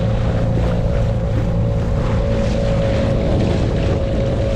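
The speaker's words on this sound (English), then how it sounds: "It's pretty bloody windy." Steady, loud wind roars outdoors without letup, with a low rumbling buffet and a faint hum underneath, near a sailing boat on open water.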